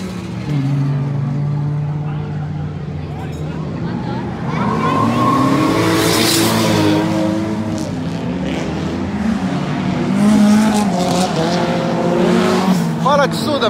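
Race cars run laps at Mikawa Motorland circuit, their engines rising and falling in pitch as they pass, loud and fairly close, with brief tire noise and people talking in between.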